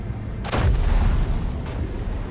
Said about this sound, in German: wir haben einen starken Schuss gesetzt